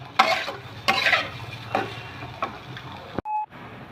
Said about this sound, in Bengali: এবার একটু সাদা তেল দিয়ে ভেজে নিচ্ছি।